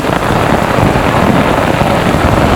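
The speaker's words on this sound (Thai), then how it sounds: "เดี๋ยวเราก็ไม่รู้ว่าฝนจะหยุดเมื่อไหร่อ่ะ" Heavy rain pours down steadily during a storm on Koh Chang island in Trat, a loud, dense, unbroken hiss with no talk.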